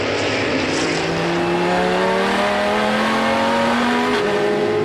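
A Mosler GT race car screams through a banked right-hander, its engine note rising and sweeping in pitch as it passes close by, loud and continuous with no other sounds.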